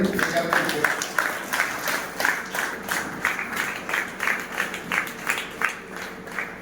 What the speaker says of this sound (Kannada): ಜೋರಾಗಿ ಚಪ್ಪಾಳೆ ಹೊಡಿ.